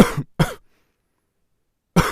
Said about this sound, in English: So that's a dry cough.